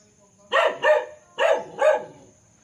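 Four loud dog barks in two quick pairs, close by at a farm house in Liliw, Laguna, with a faint steady hum in the background.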